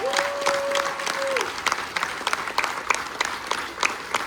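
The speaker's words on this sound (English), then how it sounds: "Give them a little bit round of applause." Applause from a crowd at a carnival-themed military appreciation gathering, dense and steady clapping from a sizable audience, close and lively, with a brief tonal beep near the start.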